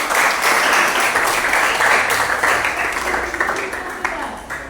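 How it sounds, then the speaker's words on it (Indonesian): An audience breaks into sustained applause, loud and steady at first and then gradually thinning, with a few scattered claps toward the end. "Aplaus dong untuk abang-abang."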